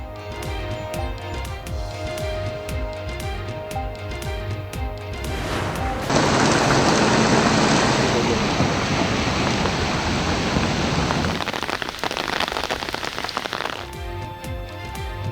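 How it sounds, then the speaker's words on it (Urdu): Heavy rain pouring down in a steady, dense hiss for several seconds, loud and close, framed by music at either end. "جڑواں شہروں میں تیز بارش کا سلسلہ وقفے سے جاری"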